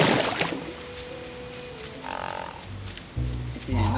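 A frog croaks in the video game The Last Campfire: a few short, low croaks set against a soft game ambience, with a brighter chirp near the start and another low croak at the end.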